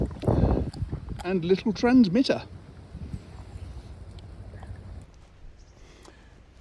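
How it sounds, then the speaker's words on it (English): Gusty wind on a cold moor buffets the microphone, a steady rumbling roar with someone speaking briefly near the start before the wind carries on alone. "as you can see, and I dare say you can hear, it's fairly windy"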